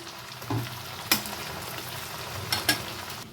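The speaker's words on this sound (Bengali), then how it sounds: "এই টমেটো আর রসুনটাকেও আমি এক দুই সেকেন্ড একটু ভেজে দিব" Tomato and garlic fry in a pan with a steady low sizzle, and a few sharp scraping strokes of a spoon stir them up close.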